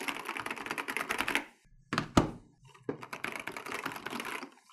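Rapid clattering keystrokes on an NZXT mechanical gaming keyboard in two bursts, separated by a brief pause with a couple of sharper single clicks.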